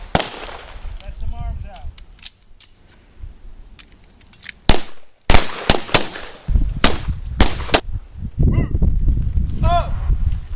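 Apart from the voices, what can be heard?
pistol gunshots on a shooting range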